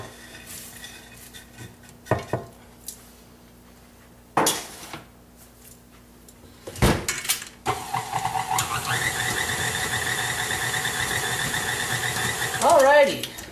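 Chopped walnuts being stirred into apple oatmeal muffin batter in a mixing bowl, heard as scraping and clinking of a utensil against the bowl, with a steady louder mechanical whir taking over in the second half, without speech.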